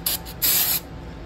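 Brake cleaner sprayed from an aerosol can onto a brake rotor during a big brake kit install on a Bertone X1/9: a short hissing burst, then a longer, louder spray lasting about a third of a second, close by with no talk.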